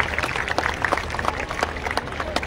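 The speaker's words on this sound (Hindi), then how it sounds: "तो ताली तो बनता है ना।" Applause from a large audience at a big satsang gathering, a dense, steady wash of clapping heard from within the crowd, continuous for a few seconds with a faint voice underneath.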